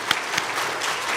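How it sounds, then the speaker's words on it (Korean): A church congregation applauds during a Sunday worship service: a short, moderately distant burst of clapping with a few sharper individual claps standing out. "큰 박수로 격려하도록 하겠습니다"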